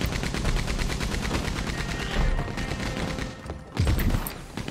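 Rapid machine gun fire in Red Dead Online's Fort Mercer Call to Arms mode rattles in a continuous stream of evenly spaced shots, loud and close, with a few heavier thumps near the end.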